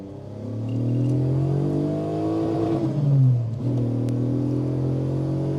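A small Daewoo Matiz city car fitted with a 3.2 V6 engine accelerates hard, its loud, close engine note climbing steadily in pitch, briefly dropping at a gear change and then rising again.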